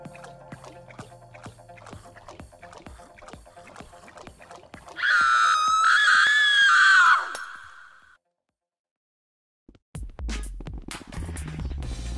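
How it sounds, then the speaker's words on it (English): A loud, sustained scream cuts in over a quiet rhythmic ticking and low rumbling ambience, holding for about two seconds before trailing off into silence, then murky low noises return. "We heard screaming."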